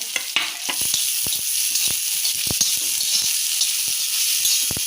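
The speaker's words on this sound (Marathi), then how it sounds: "आता टामॅटो घालूया टामॅटो थोडा वेळ भाजून घेऊया" Tomatoes frying with onion in a pan, a continuous bright sizzle with frequent stirring clicks and scrapes of a spatula, close and fairly loud, with no speech.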